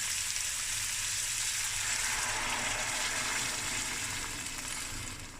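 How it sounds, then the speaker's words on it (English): Hot water pours into a pot of lamb and sago stew, a close continuous gushing hiss that holds steady, then tapers slightly at the end. "and I add hot water."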